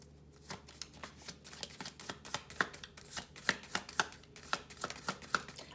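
Tarot cards shuffled and slid back into a deck, a close, quiet run of crisp flicks and taps repeating in quick irregular rhythm with no speech.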